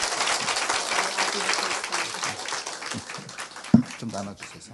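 Church congregation applauding to welcome a visiting guest, a steady wash of clapping that continues for several seconds with a voice speaking faintly under it near the end.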